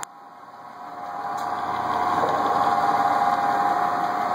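A Clausing 15-inch belt-drive drill press fitted with a Jacobs ball-bearing chuck runs with a steady, fairly quiet motor hum that swells slightly after starting and then holds even.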